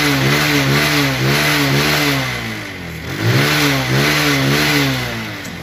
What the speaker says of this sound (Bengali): এখন দেখাবো হচ্ছে বাইকটির সাউন্ড এবং পারফরমেন্স